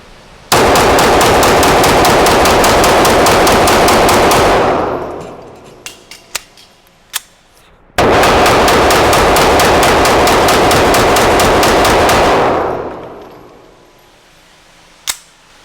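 Rapid handgun fire empties around forty rounds in two long, loud bursts of closely spaced shots, each tapering off, followed by scattered metallic clinks and a final sharp crack.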